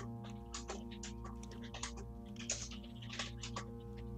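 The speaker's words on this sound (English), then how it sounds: "I hear a lot of typing, not a lot of talking." Rapid, irregular clicking of fingers typing on a computer keyboard, steady and close, with no talking over it.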